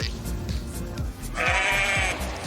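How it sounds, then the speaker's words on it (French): Ewes bleat repeatedly in a farmyard on France's Opal Coast, several overlapping calls close by and fairly loud, with low rumbling background noise beneath them. "Clément, est-ce que tu peux m'emmener comme toi voir les brebis?"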